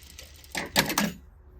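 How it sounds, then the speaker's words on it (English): Sewing machine stitching a princess seam on a bodice front, then back tacking at the end: a short, soft run of stitching followed by two or three louder rapid bursts before it stops. "I can just sew it back down. When I get to the end, I'm going to back tack."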